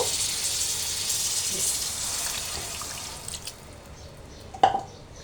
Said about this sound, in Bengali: কষায় নেওয়া হয়ে গেছে আমি এখন পানি দেব